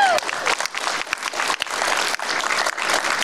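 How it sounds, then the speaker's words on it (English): A convention crowd at a voice actor panel for Overwatch at Wizard World Cleveland bursts into loud, sustained applause, with cheering voices mixed through the clapping. "I want some applause."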